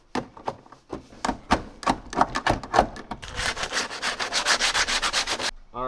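A Toyota 4Runner fender gets trimmed, with rhythmic rasping strokes that start spaced and then speed into a dense, steady grinding run, close and loud, with no voices.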